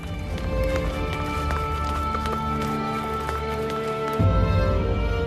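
Horses carrying riders approach through a palace courtyard, a dense, continuous clatter of hooves under a sustained musical drone, staying loud throughout and swelling slightly near the end.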